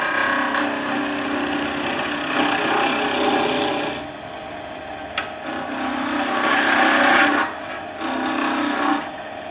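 Skew chisel smoothing a piece of timber spinning on a wood lathe, a steady, loud, close rasping hiss of the cut that drops briefly and resumes in long passes.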